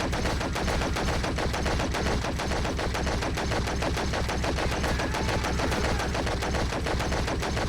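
A light machine gun fires in the action game Stranglehold, a loud, sustained rapid burst of shots at close range with no talk.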